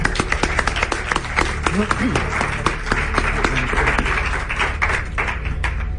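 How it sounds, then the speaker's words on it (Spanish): An audience at a magic and mentalism show claps loudly and continuously to welcome a volunteer to the stage. The crisp, dense clapping runs throughout, with a few voices faintly audible in the middle. "Vamos a darle un aplauso bien fuerte para que suba"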